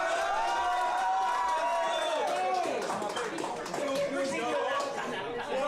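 A rap battle crowd reacts loudly, a dense wash of chatter and shouting voices with scattered claps and cheers, close and continuous throughout.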